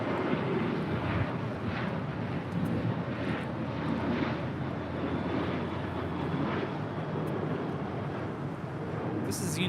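A United Boeing 737-900ER departing LAX, a steady broad roar of jet engines rumbling continuously at a moderate distance for the whole stretch, no talking.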